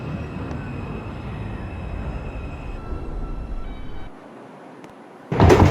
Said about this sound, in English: This is a Bronx-bound 4 train.